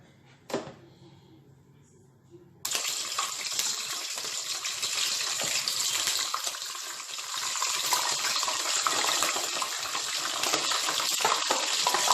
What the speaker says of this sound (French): maintenant je vais les mettre dans l'huile